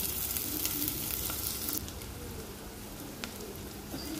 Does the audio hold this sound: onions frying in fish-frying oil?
yes